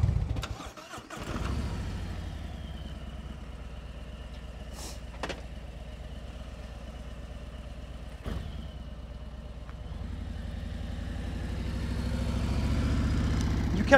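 A motorcycle idles steadily during slow-speed riding practice in an open lot, with a few short throttle blips lifting the engine note briefly before it settles back to a low, even rumble.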